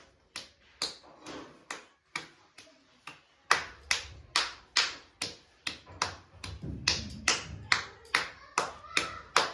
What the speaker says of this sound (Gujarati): અમારા જેનું તાળી પાડે છે.